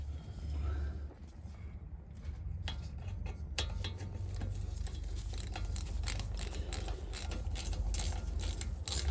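A ratchet fitted with a T40 Torx bit tightens a brake bolt on a Mercedes-Benz ML during a pad and rotor job, with steady rapid clicking close up over a constant low hum and no talk.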